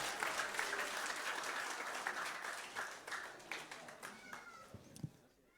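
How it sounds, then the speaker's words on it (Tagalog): A church congregation applauds, dense clapping from many hands that gradually thins and fades out over a few seconds, heard fairly faintly. "Palakpakan natin ang Panginoon."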